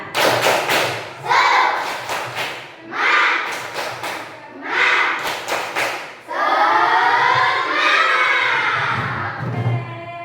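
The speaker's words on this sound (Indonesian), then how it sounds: "Untuk memulai pembelajaran kita tepuk semangat dulu. Yuk, tepuk semangat." Children in a classroom perform a patterned rhythmic clapping routine, loud close claps in quick grouped bursts with short pauses, followed by the children chanting together.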